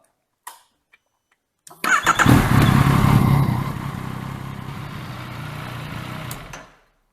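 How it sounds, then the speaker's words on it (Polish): A few clicks, then a Yamaha MT-09 motorcycle engine cranks and catches with a loud roar, settling into a steady rumbling idle while warming up before cutting off. "odpalamy motocykl, zagrzewamy do temperatury roboczej"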